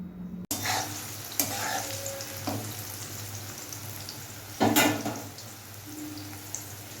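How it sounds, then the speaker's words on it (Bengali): Onion and eggplant frying in a pan, a steady close sizzle broken by a few sharp clanks and scrapes of stirring, with quiet patches between the louder stirs. "একটু হালকা লাল লাল করে পেঁয়াজ আর বেগুনটা ভেজে নেব"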